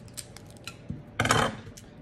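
A few small clicks and a snip, then a brief crinkling cut as scissors open a thin trading card pack, close and quiet.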